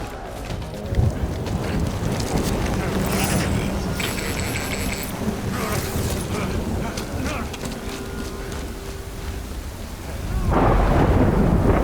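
Rain pours steadily in the video game Death Stranding while thunder rumbles loudly and continuously, swelling into a heavier roll near the end.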